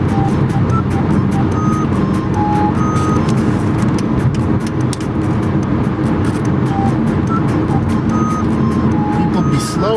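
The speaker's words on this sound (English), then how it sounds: "I figured there'd be a little bit of noise here, seeing as how I'm now on the highway." Steady, loud road rumble and wind roar inside a car cruising on a highway near Oshawa, continuous throughout with faint tonal beeps above the drone and no pauses.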